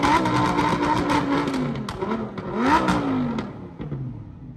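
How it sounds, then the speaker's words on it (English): A Lamborghini V10 revs hard nearby in a few sharp rising and falling bursts, with a brief pop in the middle before the sound fades toward the end. "I never heard no fucking V10 that sounds like this."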